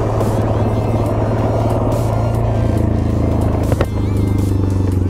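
Suzuki LTZ 400 quad engine running loud and steady on asphalt, a continuous low drone with a brief sharp rise near the end.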